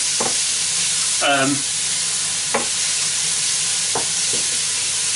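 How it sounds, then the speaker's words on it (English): Onion, garlic, ginger and curry sauce mixture hits hot oil spiced with panch phoron for a yoghurt chicken curry, giving a bright continuous sizzle with a few stirring knocks and scrapes, close and loud. "the onions, garlic, ginger and curry sauce mixture is going into the hot oil which has been sweetened with panch phoron."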